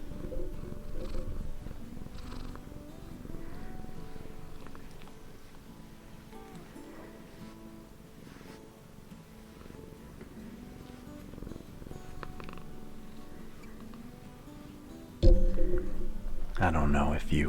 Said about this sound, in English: Let me see if I can get some of her purring.